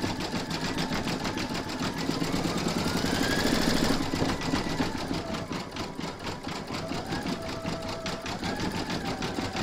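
An embroidery machine stitches a reindeer applique on piled fabric, a steady fast mechanical chatter of needle strokes that runs without a break at close range, with no talk.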